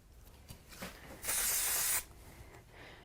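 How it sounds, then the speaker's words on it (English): A steady spray of glue from an aerosol can hisses for about a second, preceded by small handling taps and followed by a sharp click. "I'm going to use some spray glue on the back here."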